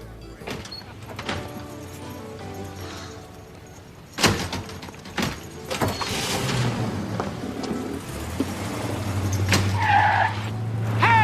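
Stolen car pulling away with tires skidding, a rising engine and tire noise building over the second half, preceded by door clunks and scattered thumps in a busy street scene.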